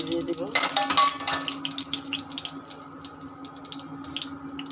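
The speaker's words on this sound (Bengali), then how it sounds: "একটু প্লেটগুলো ধুয়ে দেবো।" Tap water runs steadily into a kitchen sink while breakfast plates are washed, with a brief louder gush near the start and faint clinks underneath.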